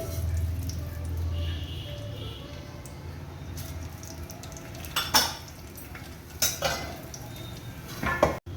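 Mustard seeds and cumin crackle in one to two spoons of hot oil for a tempering for horse gram saaru, a steady close sizzle with a few sharper pops and clinks near the end.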